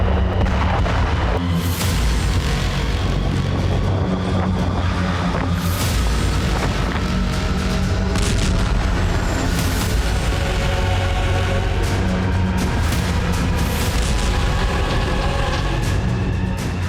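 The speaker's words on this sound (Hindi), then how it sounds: "नॉर्थ कोरिया की आर्टिलरी से ही लुहांस्क से गोलीबारी जारी है।" North Korean artillery fires in Luhansk during the Russia-Ukraine war. A dense, loud rumble of booms and blasts runs continuously throughout, with sharper reports cutting through the heavy low roar.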